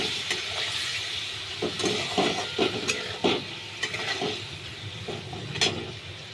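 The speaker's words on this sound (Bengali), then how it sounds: "টক দইটা দিয়ে দিলাম। দিয়ে এটার সঙ্গে বেশ ভালো করে মাখাতে হবে।" A spoon stirs and mixes sour yogurt into a pointed gourd and chickpea curry in a hot pan, giving soft scraping and wet squelching strokes over a steady low sizzle, close by with no voices.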